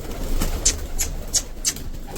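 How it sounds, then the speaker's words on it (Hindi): Pigeons in a loft flap their wings in several quick bursts at a steady rhythm, with soft low cooing and rustling in the background. "सारे कबूतर बाहर निकाल दिए।"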